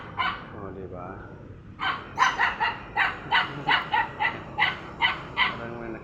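A small dog facing an empty chair barks in a rapid series of sharp, evenly spaced yaps after a few whimpers and a brief voice, loud and close.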